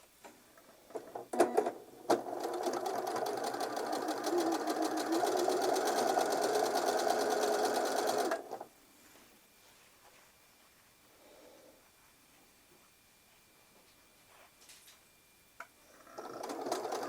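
A sewing machine stitches fabric in one steady, fast run of about six seconds. It is preceded and followed by quieter handling noises in a calm room.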